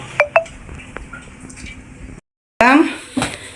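A metal pot of strained milk is set down on a kitchen stove, with a few sharp clinks at the start and a louder clunk and rattle after a short silence, and a voice talking.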